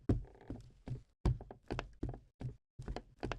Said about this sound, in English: Next we got creaky wood